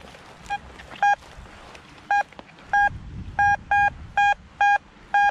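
A two-tone radio signal comes through a Vista X receiver as a series of short, loud, evenly spaced beeps over faint background hiss, with no voices.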